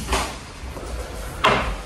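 A door of a budget house in the Philippines is moved, with two distinct knocks or bumps, the second louder, against a quiet room with no talking.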